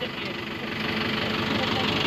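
A new Mahindra Novo 655 DI tractor, which has a hydraulic lift problem, idles with a steady, close, knocking diesel chug for the whole short stretch, with no talk over it.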